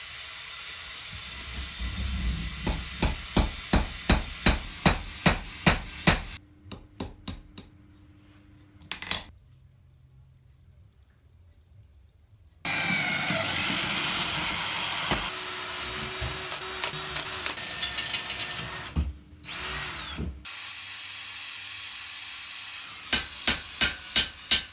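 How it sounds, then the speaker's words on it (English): Rivets are hammered to fix hinges to the frame of a handmade Dwarvish treasure chest, heard as runs of sharp, evenly spaced metallic taps close by, broken by a quiet stretch and a steady hissing noise, with no talking. "I'll try to rivet these to the frame of the chest."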